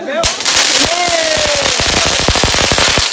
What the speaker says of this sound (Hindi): अब यहाँ से हम ना कहीं जाबो वहाँ बम फोड़बो भागो छिटकेगा